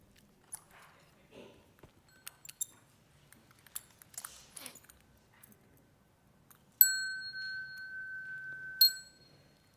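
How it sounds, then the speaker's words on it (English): A bell at a Buddhist temple struck twice, each time a clear ringing tone that sustains and fades, following a stretch of faint scattered knocks and rustles. "Bell sound"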